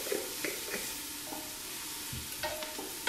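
Chopped onion frying in olive oil is stirred in a pan, with scattered scraping and clinking of the spoon over a low continuous sizzle.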